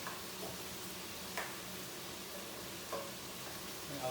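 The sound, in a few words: garlic frying in a hot pan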